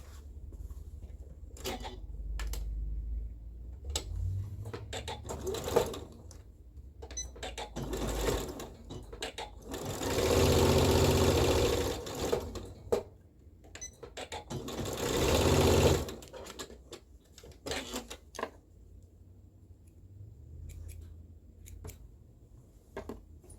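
A sewing machine stitches a sleeve ruffle seam with a 5/8 allowance, running in short bursts broken by pauses, with two longer, louder runs of steady rapid needle chatter.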